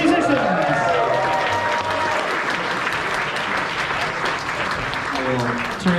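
An audience at a convention opening ceremony claps loudly and continuously, a dense wash of applause with some cheering and voices mixed in, tapering slightly toward the end.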